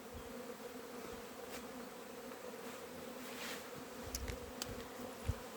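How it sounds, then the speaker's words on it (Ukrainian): Honeybees swarm around a hive yard during orientation flights, a steady dense buzzing drone throughout with a few sharper passes of bees flying close by. "Сьогодні пасіка обльотується"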